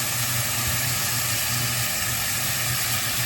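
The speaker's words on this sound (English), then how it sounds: "at this point, I'm going to add in the butter" Butter sizzling in a hot pan beside a seared steak, a constant close hiss with a low rumbling undertone that holds steady throughout, without talk.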